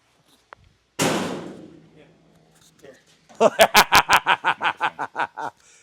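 A car door in a garage during an LS engine swap shuts with one loud, sharp thud and a short fading ring, followed after a pause by a run of rhythmic laughter.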